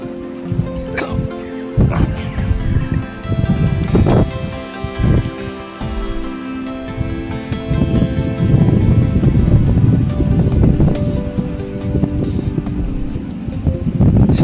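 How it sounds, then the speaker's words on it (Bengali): Strong, cold wind buffets the microphone high on the Annapurna Base Camp trek between Deurali and ABC, a continuous loud low rumble with gusty surges and a few brief knocks throughout. "প্রচণ্ড জোরে হাওয়া দিচ্ছে"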